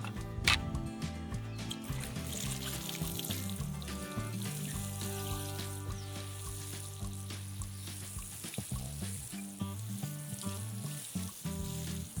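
A hose or watering can sprays water onto a vegetable garden bed of cucumbers and beans, a continuous hissing splash with some uneven gurgling and no talking.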